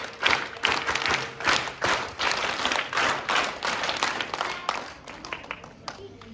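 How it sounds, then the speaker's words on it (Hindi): Children in a school drama class at Kendriya Vidyalaya clap together, a loud, uneven burst of many hands that pulses for several seconds and gradually thins out, with voices murmuring underneath. "एक बार जोरदार ताली बजाइए इन बच्चों के लिए"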